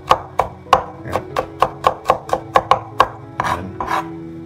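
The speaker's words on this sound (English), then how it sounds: "Then chop it thinly" A knife chops garlic thinly on a cutting board in a home kitchen, a steady run of about a dozen crisp, close taps, then a couple of softer scraping strokes at the end.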